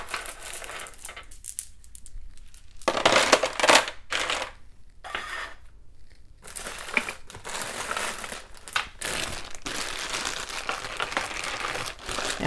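African glass beads handled in their bag, producing bursts of crinkling plastic and clicking, rattling bead sounds, close and irregular, with brief quiet pauses between.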